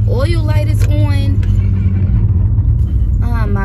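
Low engine rumble and road noise from a car with oil and brake warning lights on and several faults, droning steadily throughout while someone talks over it.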